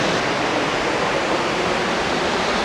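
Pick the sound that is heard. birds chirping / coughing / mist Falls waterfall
mist Falls waterfall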